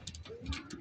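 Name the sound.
pigeons cooing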